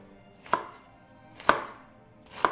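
A knife chops green cabbage on a board with three crisp, sharp cuts spaced about a second apart. Each is close and distinct against a quiet background, with no talking.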